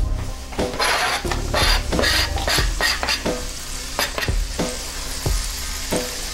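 Shallots sizzle in a hot pan at close range while they are repeatedly stirred and scraped with a utensil, giving rhythmic scraping strokes over a continuous fry.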